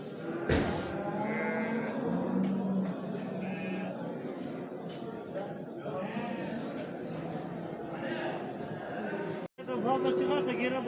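Sheep and lambs bleat repeatedly amid a busy livestock market in Göksun, Kahramanmaraş, with a murmur of crowd voices and people talking throughout, animals calling near and far.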